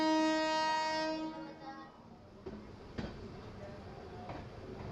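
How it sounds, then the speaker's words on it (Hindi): A train leaving Hajipur Junction in India sounds a long, loud horn that fades out, followed by the low rumble and occasional clanks of rail cars rolling away. "चलिए निकल चुकी है अपनी ट्रेन।"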